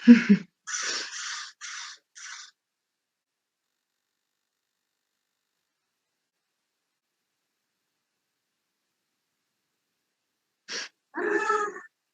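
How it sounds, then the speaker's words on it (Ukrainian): A crow cawing in a short series of hoarse calls, then long silence before two more caws, clear and fairly close with no talk. "Так, ворона."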